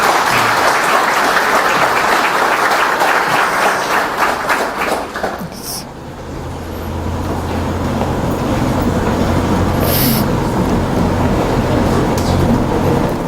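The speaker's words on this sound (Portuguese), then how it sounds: "Uma salva de palmas para o nosso irmão" An audience applauds the speaker Sebastião Camargo at a spiritist gospel lecture, steady dense clapping for the first five seconds, then thinning into quieter scattered claps beneath a low hum.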